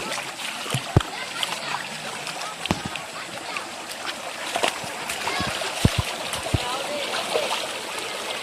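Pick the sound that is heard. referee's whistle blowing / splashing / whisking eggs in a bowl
splashing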